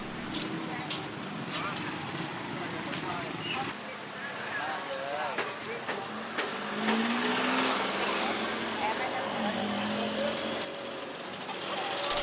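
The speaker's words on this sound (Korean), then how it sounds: "오토바이들이 절대적으로 많습니다" Busy early-morning street traffic in Thailand with motorcycles passing close by, a steady roar of small engines and occasional tire noise, with voices mixed in.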